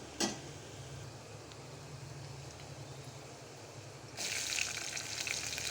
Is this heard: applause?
no